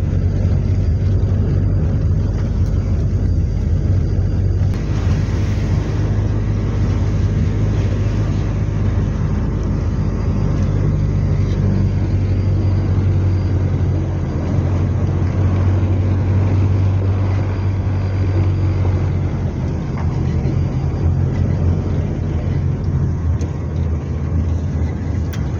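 A car driving on a field track, heard from inside the cabin: a loud, steady low engine and road rumble that runs the whole length, with a slight shift in tone partway through and no voices.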